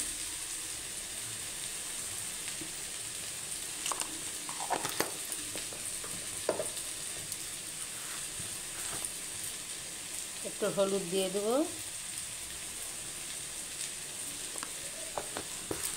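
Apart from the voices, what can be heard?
potatoes frying and being stirred in a pan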